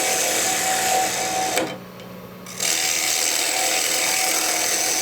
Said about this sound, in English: now we get to start moving some wood because we're going to turn this just like you would a bowl